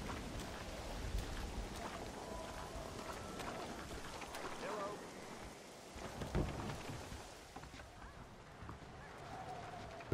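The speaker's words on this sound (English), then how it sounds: "A storm." A thunderstorm in Red Dead Redemption delivers a steady wash of heavy rain with low rumbling thunder rising and fading beneath it, a few sharper cracks, and a voice talking faintly over the storm.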